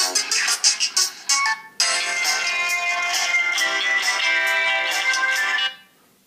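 A Cubot C30 smartphone loudspeaker plays a ringtone loudly, starting with a few short plucked notes, then a brief gap, then a sustained bright, somewhat tinny melody before cutting off.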